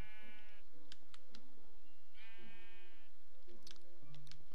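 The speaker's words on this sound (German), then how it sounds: "Und überall hört man Schafe. Oh Gott, Invasion der Schafe." Sheep in the video game Minecraft bleat repeatedly, with several wavering, nasal cries spaced over a few seconds against steady game background noise.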